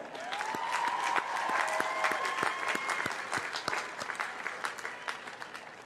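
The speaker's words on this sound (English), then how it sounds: "Graduates, let's give your family and friends a huge round of applause." A commencement audience applauds graduates' family and friends, with dense, sustained clapping from a large crowd filling the hall. A faint tonal whistle or feedback runs through the opening seconds before the applause thins toward the end.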